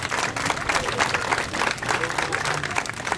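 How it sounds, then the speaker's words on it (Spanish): A crowd claps at an outdoor clown comedy show in the Alameda on San Judas day, giving dense, steady applause for about three seconds with a busy murmur of voices underneath. "Un aplauso, es día de San Judas. Apláudale."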